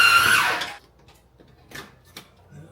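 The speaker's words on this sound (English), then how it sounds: "before I drill all the way through" A drill whines up at high pitch as it bores through a kitchen wall while a brick backsplash goes in, then winds down and stops, leaving a couple of faint clicks and knocks afterward.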